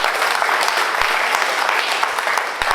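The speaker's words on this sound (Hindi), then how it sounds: "मार लो ताली, मारो मारो मारो" An audience at a company first-anniversary celebration applauds steadily, a dense wash of clapping with a few louder individual claps, and faint voices mixed underneath.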